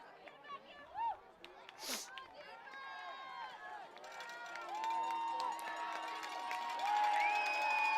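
High school varsity football crowd at a Haslett versus St. Johns game: cheering and whistles swell under a commentator's voice, growing louder and fuller through the second half.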